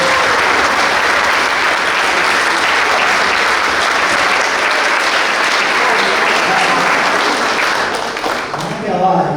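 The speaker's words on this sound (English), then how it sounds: "Please give all these people I mentioned a big round of applause" Loud, dense audience applause at a boys lacrosse banquet, a continuous roar of clapping mixed with crowd noise that tapers off near the end.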